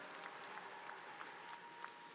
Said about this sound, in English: Let's give another round of applause to the Trojan Explosion and the Virginia State University Concert Choir.